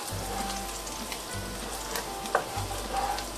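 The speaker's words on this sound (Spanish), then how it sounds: "Vamos a sofreír el ajo, que no se nos queme, solamente a sofreír un poco" Garlic sautéing in a pan as a filling for meat-stuffed potatoes, a steady broad sizzle running the whole time with a faint low hum beneath and one sharp tap near the end, no voices.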